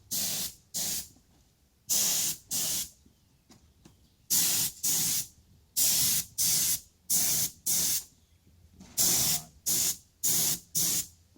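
A spray gun paints a mag wheel during a dent and scratch repair in short, sharp hissing bursts, often in pairs or runs of three, with quiet gaps between, close and fairly loud.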